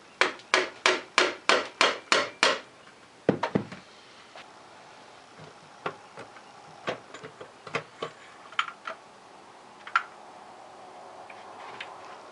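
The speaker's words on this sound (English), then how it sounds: "We should be able to start prying this thing apart now." A Kawasaki ZZR 600 engine case being pried apart: a quick run of about eight sharp, evenly spaced knocks, then scattered lighter clicks and taps of metal at close range.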